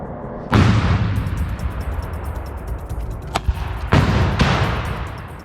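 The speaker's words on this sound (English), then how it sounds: "A Ukrainian soldier is ready to fire." A soldier fires a weapon in two loud, close booming blasts a few seconds apart, each followed by a long roaring decay and one sharp crack between them, with no talking.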